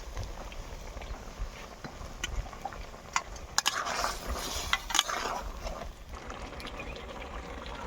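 Prawns go into a curry with taro stolons cooking in a pan, giving a stretch of stirring, scraping and soft sizzling with a few sharp clinks, close by with no talking.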